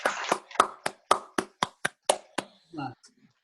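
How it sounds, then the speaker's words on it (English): A small group at home claps in a round of applause, about ten sharp, evenly spaced claps in close succession. A brief voice follows at the end. "You guys gonna clap? Round of applause."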